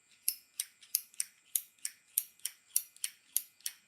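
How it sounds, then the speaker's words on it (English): An old Zippo lighter clicks in a steady, rhythmic series of about a dozen crisp metallic snaps, close by and fairly quiet, with no talking over them. "You hear him clicking the old Zippo in the background the whole time he talks"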